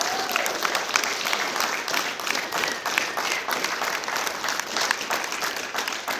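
Audience applause at a junior rugby club prize giving, steady continuous clapping from a sizeable crowd lasting several seconds, even and moderately loud without a break.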